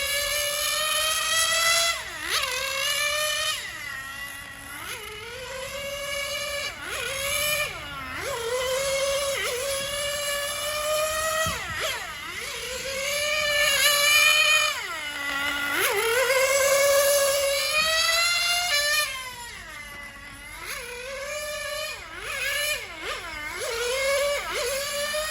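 A 1/10 scale nitro RC engine runs during break-in, a high-pitched buzzing whine that repeatedly revs up and drops back in sweeping waves, loud and close, alone without talk.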